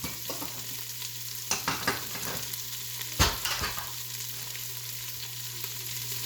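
Linguiça sausage and onions fry quietly in a pan with a soft steady sizzle, interrupted midway by a few scraping stirs, over a low constant hum.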